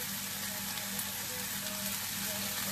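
Mushrooms and tomatoes sizzle steadily in a hot pan for a low-carb seafood paella, with a dense, even frying hiss that stays close and constant.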